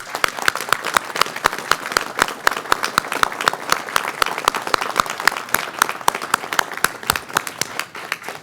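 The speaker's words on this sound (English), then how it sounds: "Please, a round of applause." Steady, dense applause from an audience at a DeKalb public safety pay press conference, brisk claps continuing for several seconds at even loudness with no talk over them.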